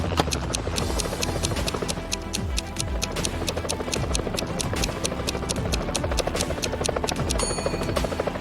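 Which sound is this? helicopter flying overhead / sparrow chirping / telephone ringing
helicopter flying overhead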